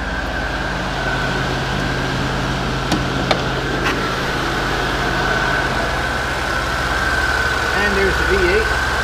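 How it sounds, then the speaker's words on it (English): Cold V8 engine of a 2013 Ford F-150 FX4 pickup idling slightly fast, a steady loud rumble with a constant tonal hum and a few brief clicks, heard close under the hood. "And there's the V8, running nice and smooth. It's running cold right now, so it's running real loud, a little quick."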